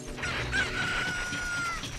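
A chicken crows in a cock-a-doodle-doo from Zelda: Ocarina of Time, one long rising and sustained call over a steady background of game music and ambience.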